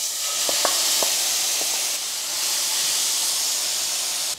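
Mushrooms and onion hitting a hot pan after pork browning, a loud steady hiss of sizzling with a few brief clinks near the start, close up and uninterrupted by speech.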